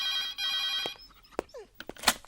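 An old-style telephone bell rings in steady repeated bursts, then stops and gives way to clattering handling sounds and a short thump as the receiver is picked up.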